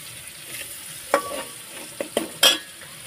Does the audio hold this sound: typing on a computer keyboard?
no